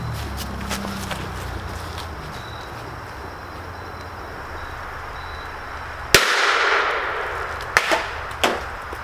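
Live .45 rounds cook off inside a burning pumpkin outdoors: a quiet crackling stretch, then one sharp loud bang, followed by two more smaller pops a second or so apart.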